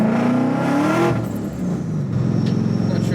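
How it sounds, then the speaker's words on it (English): A car engine revs up loud and close, its pitch climbing, then drops back to a lower rumble before building again. "this is a good sounding car, if I say so myself"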